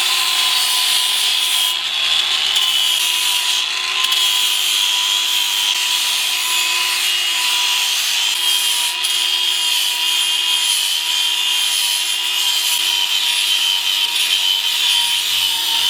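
A power tool grinds down the grind rail on a heavily modified skateboard deck, a loud steady whining and rasping drone with faint tonal hum, continuous and close throughout.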